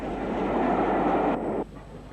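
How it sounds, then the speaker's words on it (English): Castle Class steam locomotive Surrey Castle hauling a non-stop train, a loud sustained rumble and roar of passing carriages that cuts off abruptly near the end, leaving quieter background. "Followed by Surrey Castle on a non-stop train."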